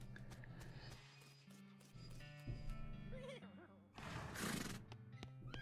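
A horse neighs in the video game West of Loathing, a rising whinny heard over steady game music with other layered effects, moderately loud and close.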